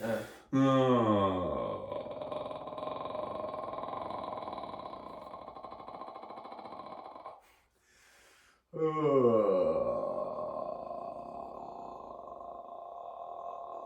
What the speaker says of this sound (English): that's the fry register where you can hear like that clicking sound